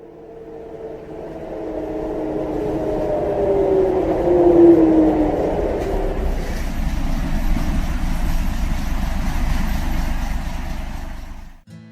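An Ikarus IK 111 city bus approaches and passes, its drive axle type 018.15 giving a rising, sustained whine over a loud, rumbling engine roar that swells and then settles into a steady drone.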